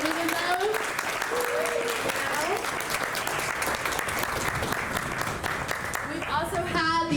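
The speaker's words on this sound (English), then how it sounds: "Can I get a big round of applause for everyone who's participating in those?" An audience at a summer co-op community event applauds steadily for about seven seconds, a dense wash of clapping with cheering and whoops rising near the end and voices mixed in throughout.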